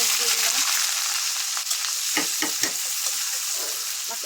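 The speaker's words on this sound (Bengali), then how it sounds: "তো এই যে শুকনো মরিচের পর পেঁয়াজ দিয়ে দিলাম" Onions sizzling in hot oil with dried chillies for a beef curry, a steady loud fry with a few stirring clatters partway through.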